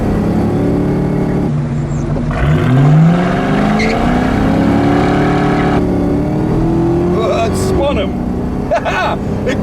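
A 172,000-mile 2004 Ford Mustang GT V8 launches hard from a standstill, engine note sweeping sharply upward through the revs, then a gear change and continued loud, close acceleration.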